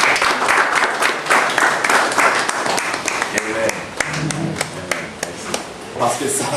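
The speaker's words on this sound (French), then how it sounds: "Il faut applaudir à Dieu." A church congregation claps at a charismatic healing service, brisk rhythmic clapping mixed with crowd voices and shouting, loud and close throughout.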